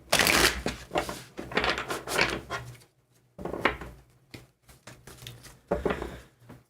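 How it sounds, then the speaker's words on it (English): Close, papery shuffling of tarot cards in several bursts, with a short pause midway before the riffling resumes. "Okay, let's do a couple more shuffle-de-shuffle."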